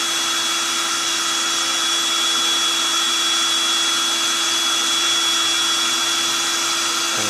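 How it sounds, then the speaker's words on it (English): An air mattress deflates through its valve while breaking camp, giving a steady, continuous whooshing hum with a faint whine that stays even throughout. "So the mattress is deflating itself now."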